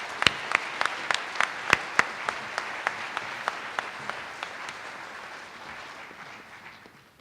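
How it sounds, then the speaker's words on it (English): An audience claps at a police awards ceremony in Lakewood, starting with a few sharp, distinct claps and then thinning out. The applause is moderately loud and has no talk over it. "Let's give them another round of applause."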